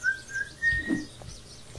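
A person whistles a few long, clear notes of a tune, close and moderately quiet, with faint low thumps underneath.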